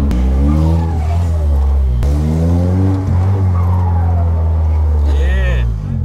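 A simulated turbo car engine plays through a speaker, revving up in smooth pitch sweeps that rise and drop as if shifting gears, with a brief turbo-like hiss near the end, loud and continuous throughout.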